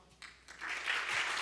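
Audience applause at an outdoor summer show, starting faint and swelling into a steady, moderately distant clatter of many hands.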